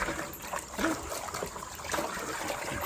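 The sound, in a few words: water trickling while rinsing salted deer hide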